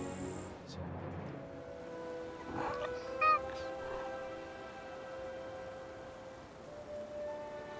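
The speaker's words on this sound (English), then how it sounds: "Aw, good kitty." Kalpana, a cat familiar in the video game Forspoken, gives a brief meow that stands out over steady game ambience. Soft rain-like noise and sustained tones run underneath.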